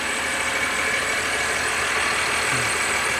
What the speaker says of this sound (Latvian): dzinējs strādā vienmērīgi klusu